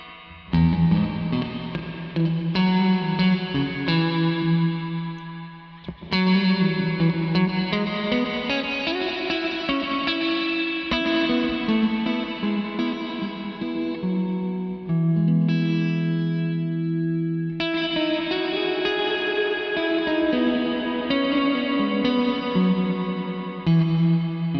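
A continuous guitar passage through the lo-fi effect of a TC Electronic Hall of Fame 2 reverb pedal, a thick, distorted, warbling tone, sustained chords blending with soft reverb and no pauses.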